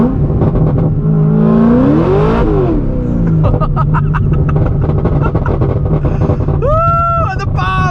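A 900-horsepower, E85-fuelled Corvette ZR1 rumbles loudly from inside the cabin while driving, its engine revs rising and falling through downshifts with sharp rev blips near the end, over steady road and wind noise.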